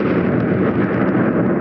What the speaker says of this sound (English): Explosion using dynamite.